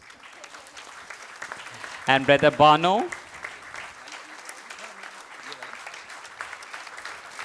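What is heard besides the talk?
audience applause for speakers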